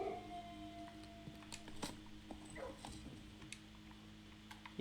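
A dog in the puzzle video game Blue Prince gives soft whimpering, howl-like calls over a steady hum of game ambience and music, with no one talking.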